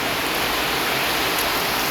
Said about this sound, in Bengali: বাইরে আজকে অনেক বৃষ্টি হচ্ছে